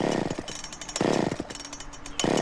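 A nearly 50-year-old chainsaw runs up close and loud, its rough two-stroke engine drone rising in repeated surges roughly once a second, with no talk over it.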